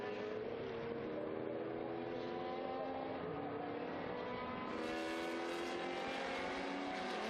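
A historic Lola T70 and Ford GT40 race past on the Estoril circuit, engines droning loudly and steadily, with pitch sweeping upward as the cars accelerate into the distance.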